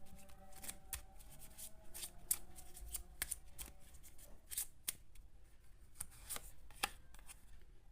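Tarot cards shuffled and drawn by hand, giving crisp riffling bursts and flicking snaps close up, repeating in uneven clusters with no talking.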